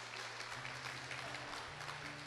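Audience applauding after a call to clap during a Portuguese talk on purgatory; dense, steady clapping fills the whole stretch, with a low tonal drone running beneath it.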